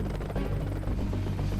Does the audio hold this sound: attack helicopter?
yes